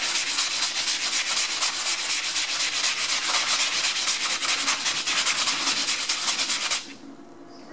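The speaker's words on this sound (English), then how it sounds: "I'll grab the pot scrubber again." A pot scrubber rubs hard across a painted projection screen in fast, steady back-and-forth strokes, loud and close, then stops abruptly near the end.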